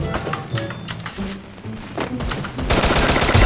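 Rapid automatic gunfire in the shooter game Free Fire, loud close bursts of shots with irregular spacing, then a dense continuous roar of firing toward the end.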